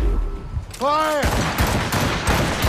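Rapid volley from a hand-cranked Puckle gun in Assassin's Creed Rogue, a dense burst of loud overlapping shots after a brief shouted order, with the crackle continuing and reverberating throughout.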